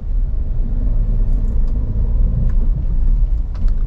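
Car engine pulling away from a full stop in first gear, a steady loud low rumble with a constant droning tone and no break, heard up close from inside the vehicle.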